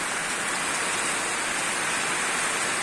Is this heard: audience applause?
no